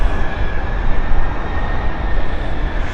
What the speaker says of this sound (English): Already banking there from the Dash 8 of Luxembourg